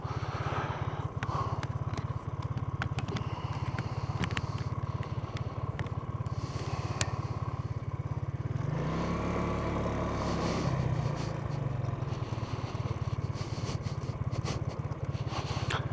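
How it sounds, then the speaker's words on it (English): A Genuine Buddy 125cc scooter engine hums steadily while riding, with wind buffeting and rattling throughout and a brief rise in engine tone midway. "As you can see, the scooter moves forward now"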